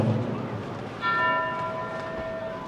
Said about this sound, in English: there is the bell, and we are underway here at the National Bowling Stadium